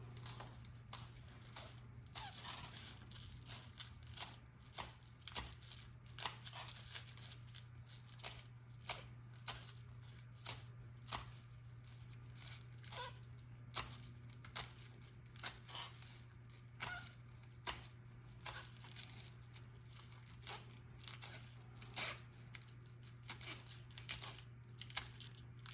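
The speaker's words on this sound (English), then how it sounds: "we're going to take the leaves and we're going to chop them really fine" Kale leaves being chopped finely with a knife on a cutting board: a steady run of quick, close knife taps that repeat throughout, over a constant low hum, with no voices.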